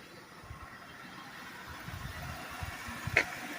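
A 2002 Buick Park Avenue engine idles smoothly after upper intake, injector and valve cover work, a quiet steady low hum with faint irregular ticks and no talking.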